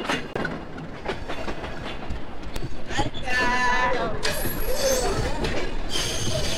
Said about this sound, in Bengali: অবশেষে আমাদের ট্রেনটা ছেড়ে দিয়েছে, এখন আমরা যাচ্ছি ঢাকা থেকে কুষ্টিয়ার উদ্দেশ্যে।